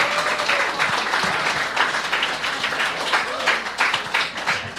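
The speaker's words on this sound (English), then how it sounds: "Get a round of applause for yourselves for making this happen." An audience at a live show applauds with dense, sustained clapping that fills the room for several seconds, loud and close with no pauses.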